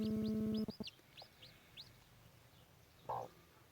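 A burst of buzzy clucking opens, followed by a few faint chirps and soft clucks from a broody hen, ending with one louder squawk.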